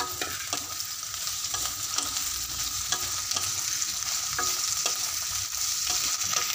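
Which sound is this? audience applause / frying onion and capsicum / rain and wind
frying onion and capsicum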